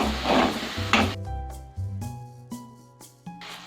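Rice is stirred through melted jaggery syrup in a pan, a close scraping, sizzling stir with a few spoon knocks against the metal, no voices.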